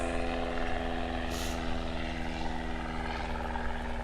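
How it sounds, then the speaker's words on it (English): An airplane passing overhead outdoors, a steady loud engine drone with propeller hum that fills the whole stretch without fading, heard alone with no talking. "Let this plane pass."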